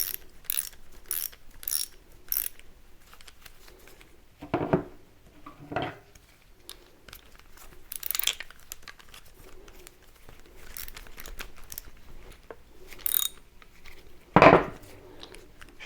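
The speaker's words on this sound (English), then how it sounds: "So I'm just going to tighten this one up. These bolts here are 1/2 inch." Half-inch bolts on a Corvette C3 steering tie-rod assembly being tightened by hand, with repeated close ratcheting clicks in short bursts and occasional sharper metallic knocks of tools against the parts.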